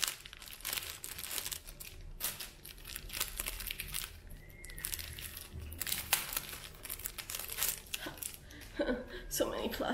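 Plastic wig hairnet packaging crinkling and crumpling in quick, irregular bursts close by, with faint soft speech in between.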